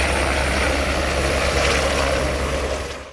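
A firefighting helicopter flies over a wildfire zone, its engine roar and rotor noise loud and steady before fading slightly at the very end, with no voices.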